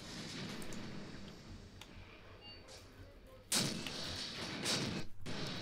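A tank cannon fires in a WWII desert tank warfare video game set in Tunisia 1943, one sudden loud boom followed by rumbling echo and a second blast, over a constant engine drone.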